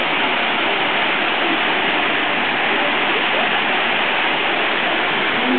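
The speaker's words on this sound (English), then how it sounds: "Not from the waterfall, right?" A steady, dense rush of falling water from a waterfall at an outdoor wedding, loud and continuous with no breaks and no voices over it.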